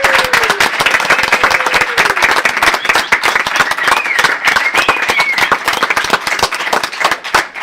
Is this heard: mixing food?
no